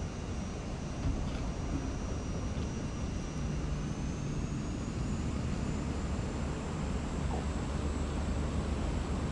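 An airplane taxis on the ground in Microsoft Flight Simulator 2024, a steady engine hum and faint high whine running continuously at moderate, even volume.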